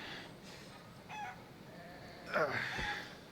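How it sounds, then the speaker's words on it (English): Chickens cluck in a quiet village in a video game, a few faint, scattered calls heard over a soft, steady ambient background. "I hear chickens"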